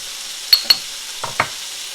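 Boneless chicken strips sear in a pan with rosemary, giving a soft continuous sizzle broken by a few quick clinks and scrapes of a utensil.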